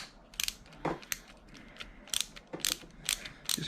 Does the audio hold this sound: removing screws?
yes